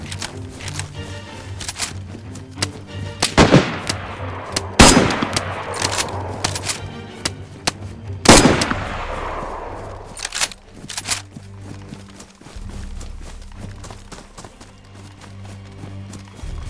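Gunshots ring out in DayZ during an ambush near an industrial area, several sharp, loud cracks spaced a few seconds apart with echoing tails, alongside scattered smaller shots and rustling movement.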